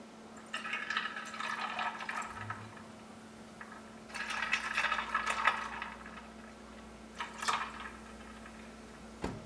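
Ginger beer is poured into a glass for a holiday cocktail in three separate fizzy, splashing bursts of a few seconds each, close and fairly quiet, with short pauses between them.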